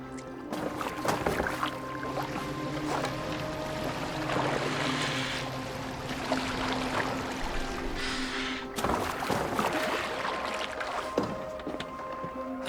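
A boat gliding across water in Assassin's Creed Valhalla, with soft splashing and lapping of the water, creaks from the hull and a low ambient game score running underneath throughout.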